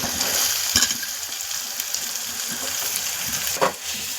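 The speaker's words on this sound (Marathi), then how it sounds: "आता ह्यामध्ये आपण बारीक चिरलेला कांदा टाकू" Finely chopped onion sautéing in hot oil with chilli-garlic paste for a ridge gourd dish: a continuous close hiss of frying with a couple of quick clinks from a spoon.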